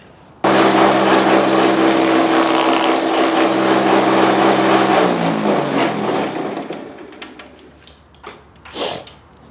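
A table saw grinds a molding profile into wood, starting abruptly with a loud, steady whine that holds for several seconds before spinning down and fading, with a few faint knocks after.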